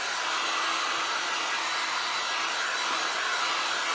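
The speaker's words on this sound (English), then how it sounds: "I'm trying to keep the heat gun moving so I don't get this super hot." A heat gun blowing over resin art on tin, a continuous, even, loud whooshing roar of fan and hot air that holds steady without pause, no voices.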